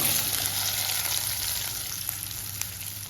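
Guar beans hit hot oil with golden-browned garlic and chili in a pan, giving a steady, close sizzle and crackle with faint stirring and no voices.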